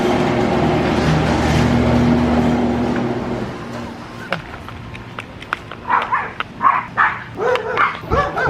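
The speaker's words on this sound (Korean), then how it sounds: "강아지 만났어 어쩐지 왜 갑자기 달려가나 했네" Dogs barking during a walk on a hot day: a few short, near barks and yips come in a quick irregular burst toward the end, after a stretch of steady traffic or engine rumble.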